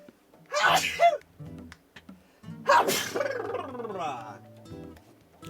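A man sneezes twice, loudly and up close, each sneeze with a sharp breathy burst, and the second is followed by a drawn-out voiced tail.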